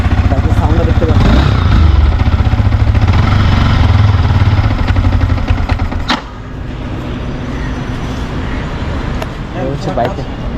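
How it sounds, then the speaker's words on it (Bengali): A used Yamaha R15 M motorcycle, an Indonesian-built model, idles steadily and fairly loudly with a low, pulsing engine rumble for about six seconds, then the sound drops to a quieter, thinner running hum. "হচ্ছে বাইকের সাউন্ড"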